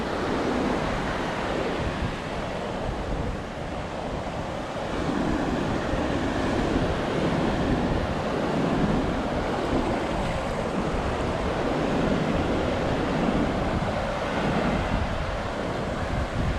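Ocean surf rolls and washes continuously at Jacksonville Beach pier, mixed with steady wind buffeting the microphone, a dense, loud roar with no speech.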